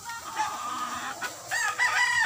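Derby gamefowl roosters and chickens at a gamefowl farm, several crows and clucks overlapping at moderate distance in a continuous chorus.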